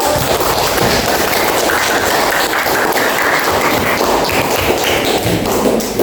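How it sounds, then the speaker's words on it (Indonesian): A classroom of primary school students claps for a student group, dense continuous hand claps filling the room at a steady, loud level with no talk over them. "Oke, tepuk tangan untuk kelompoknya Aldo."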